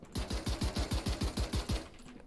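Rapid automatic gunfire in Valorant, about eleven evenly spaced sharp shots in a fast burst, loud and close, ending abruptly.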